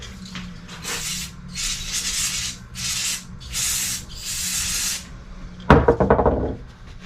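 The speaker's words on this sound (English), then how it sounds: "Let me spray these off." Several bursts of aerosol spray clean Ford F-150 transmission parts during a 2005 rebuild, each lasting about a second with short pauses between, ending in a louder clatter of metal parts being handled.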